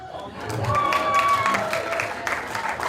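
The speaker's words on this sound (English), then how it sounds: "now please give a warm round of applause to Richa and Arjun" Guests at a birthday celebration for a mother give warm applause, a swelling wash of clapping mixed with light cheering and crowd murmur that holds steady.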